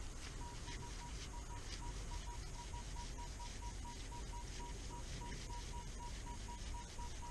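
A metal detector sounds a steady, faint beeping tone over a lead musket ball buried in a test garden, repeating in short pulses against low background noise.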